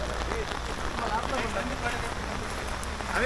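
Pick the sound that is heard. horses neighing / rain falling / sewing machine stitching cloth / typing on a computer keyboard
rain falling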